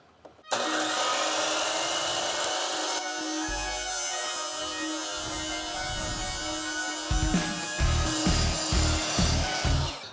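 An electric power tool grinds and mills old, partly rotted reclaimed wood trim, a loud steady whine running throughout with rougher bursts and chatter toward the end.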